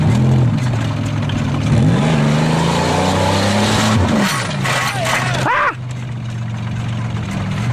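An Oldsmobile car engine revs hard while a dozer tows it, a loud close-up roar that rises and falls through several throttle sweeps, with people shouting over the engine noise.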